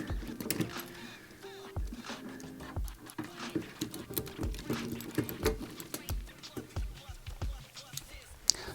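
Screws being undone on a Marshall JMP-1 preamp with a small multi-tool, giving close, soft scraping and light metallic ticks in an irregular rhythm, with some handling clatter.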